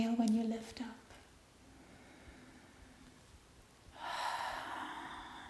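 Breathing during a slow, meditative yoga flow: a voiced sound opens, then a long, quiet airy exhale, and a louder breathy inhale rises near the end, close to the microphone.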